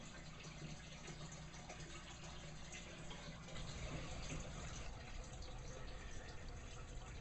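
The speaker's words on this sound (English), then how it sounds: "The siphon is working and it's draining." Water steadily draining through a siphon in a small homemade aquaponics system, a continuous low gushing trickle that grows slightly stronger partway through, with no talking.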